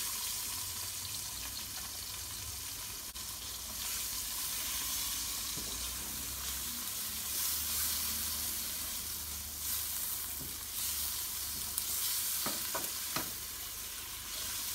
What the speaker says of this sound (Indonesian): Tumis bawang putih, bawang bombay,